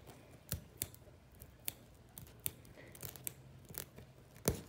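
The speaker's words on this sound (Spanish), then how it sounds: "aquí con las tijeras" Scissors cutting open packaging, a series of sharp snips and clicks spaced irregularly, close and fairly quiet with no talking.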